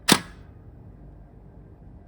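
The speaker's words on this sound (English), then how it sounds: "This little button over here can release the mirror." A Hasselblad 500c medium-format camera's mirror release gives a single sharp mechanical click, close and crisp, then quiet room tone.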